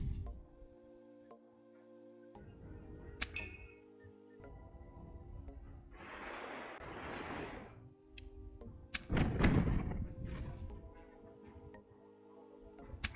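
Heavy booming pirate-ship cannon blasts in the game Tortuga - A Pirate's Tale, several thuds spread out with a big burst near the middle, over a steady mechanical background hum.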